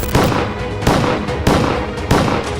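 Gunshots from a shooter in CCTV footage of an attack ring out as four loud, sharp blasts at roughly even intervals, each with a quick decay.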